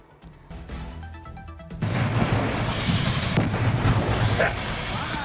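Gas cylinders on a burning lorry after a road accident in Ariyalur burst with heavy booms and a dense, continuous roar of fire and rumbling blasts heard from a distance, following a brief quieter start.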